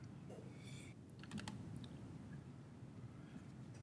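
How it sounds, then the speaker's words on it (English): Keys are tapped on a computer keyboard during a council committee meeting, soft, uneven clicks at a modest pace in a quiet room, with no speech. "I'm a bit slow at typing"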